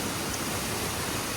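Curug Putri waterfall at Palutungan, a low but forceful cascade, pours in a steady dense rush of white noise, continuous and unbroken with no voices.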